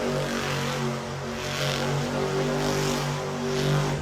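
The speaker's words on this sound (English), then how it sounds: "Nice donut out of Timothy Jones" A monster truck spins a donut at a muddy night show in Miami, Oklahoma, its engine a steady loud droning roar that swells slightly without a break.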